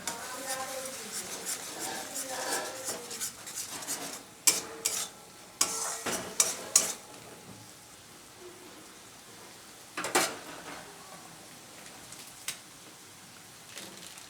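Grated tomato sizzles softly in a pan for a pabda fish curry, with a low frying hiss and a few sharp spatula scrapes and clanks against the pan, fairly faint and close.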